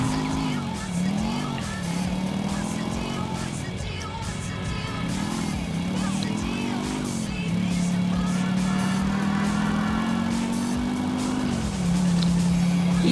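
Motorcycle ridden through traffic in the PC game GTA IV: a continuous engine whine swooping up and down with throttle, with occasional tire squeal, loud and near throughout.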